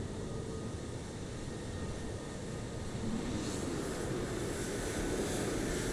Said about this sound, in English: Engine on his plane is horrible.